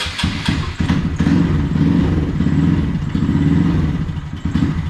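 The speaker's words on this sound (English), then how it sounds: "I'm about to idle it up. It's running lean, but it's still cold." A cold Honda Grom 170 big bore motorcycle engine running lean at idle, a close, loud, uneven chugging thump with pulsing irregular firing and mechanical clatter, continuous throughout without speech.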